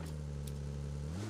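A car engine in the mobile battle-royale game PUBG Mobile hums steadily at a low, even pitch, rising slightly near the end as if starting to rev, heard alone without talk.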